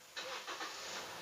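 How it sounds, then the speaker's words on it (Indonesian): A 2013 Toyota Yaris J with a clutch-start procedure is started, a short faint cranking catch followed by the engine settling into a quiet idle hum, heard from inside the car. "cara hidupnya kita harus pijak kopling, lalu kita start."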